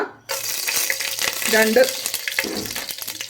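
Three small pieces of cinnamon drop into hot coconut oil and sizzle up close, a steady crackling fry with brief bubbling bursts and light clinks, while making thikkadi.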